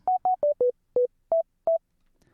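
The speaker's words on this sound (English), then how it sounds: "So with just a sine wave, we're sounding something like this." Arturia Pigments synthesizer playing a plain sine wave lead, heard as seven short, pure, beeping notes in a quick melodic phrase with slightly shifting pitches, then silence.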